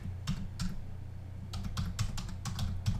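Keys tapping on a computer keyboard in short bursts of quick clicks with brief pauses between, close and fairly quiet, with no talking.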